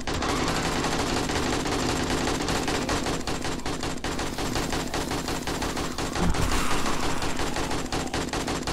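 Rapid automatic gunfire in the zombie survival game 7 Days to Die rattles on without a break, loud and close, with one heavier burst near the end.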